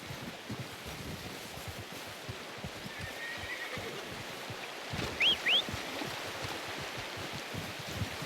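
A horse in the video game Red Dead Redemption 2 gives a brief whinny partway through, over steady wind-like outdoor ambience with low rumbling.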